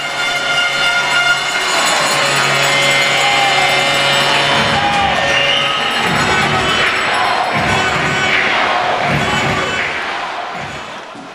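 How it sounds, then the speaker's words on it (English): Arena crowd at an ice hockey game between the Bracknell Bees and MK Thunder roars in sustained cheering after a goal, a loud continuous wash of voices with whistles and shouts that swells and then tapers off near the end. "A ping from the pipes followed by cheers from the crowd as the advantage was again extended"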